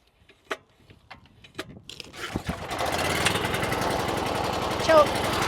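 Yamaha small engine cranking a few times, then catching and running steadily with a loud, continuous buzzing drone, nearby in a workshop.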